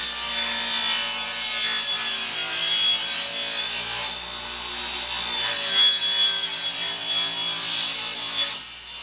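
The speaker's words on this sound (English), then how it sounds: "Go through all your scrap wood, any of it that's good and or usable, and rip it down to 3/4 strips" Scrap wood being ripped into 3/4-inch strips on a power saw, a loud continuous whining cut with steady rasping texture that holds for the full stretch before easing off at the end.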